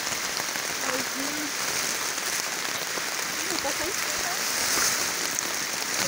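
Steady rain falls outdoors as people search the ground for stones, a dense hiss of drops that stays even from start to end, with faint distant voices under it.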